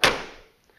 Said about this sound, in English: Except I gotta close the door harder.